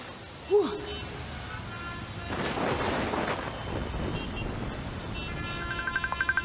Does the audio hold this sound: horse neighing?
no